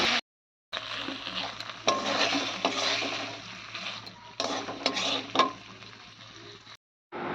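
Fish curry sizzling in a pan cooked with very little oil, with scraping stir strokes and light utensil clinks, loud and close, broken by a couple of brief silent gaps.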